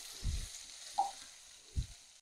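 Chopped tomato dropped onto sautéed onions in a pan, sizzling faintly with three soft thumps of stirring spread over a couple of seconds.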